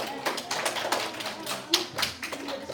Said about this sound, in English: You can clap also.